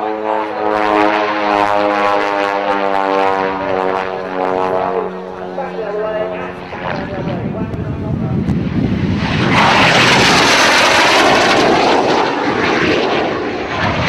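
A Jet Provost jet trainer flying a display at an RAF-style airshow, its loud engine roar sweeping past with a falling whine, then a broad rushing blast as it passes overhead, with a commentator talking over it throughout.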